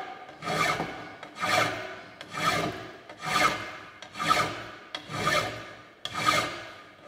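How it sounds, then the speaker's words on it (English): A hand file rasps across a mild steel round bar in seven even strokes, each a loud scraping push followed by a short pause, steady and close with no talk. "This is called filing operations."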